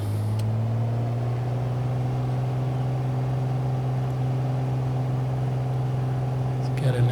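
A piston aircraft engine in Microsoft Flight Simulator hums at a steady idle just after starting, a low continuous drone with a faint pitch dip near the end, close and even in level.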